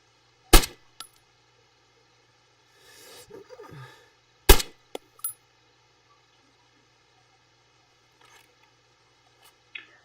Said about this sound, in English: The bullets hitting the ground, however, are not silenced.